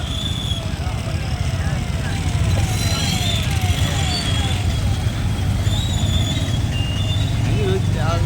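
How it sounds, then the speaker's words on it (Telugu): Steady road traffic rumble during the Vinayaka Chavithi festival, a continuous broadband drone of passing vehicles with occasional higher tonal whines, fairly loud and close throughout. "ఓహో వినాయక చవితి కదా అందుకే అంత ట్రాఫిక్ ఉంది"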